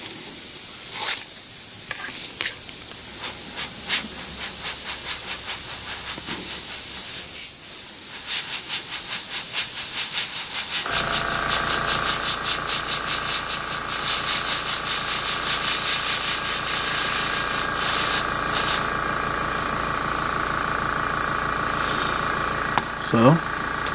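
Spray gun laying metallic paint on a frame, hissing in short bursts at first and then in one long continuous blast, with a steady mechanical drone beneath it in the second half.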